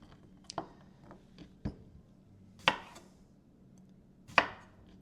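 A knife chopping through cucumber for refrigerator pickles, a few sharp separate cuts against a cutting board, close and fairly quiet, with short pauses in between.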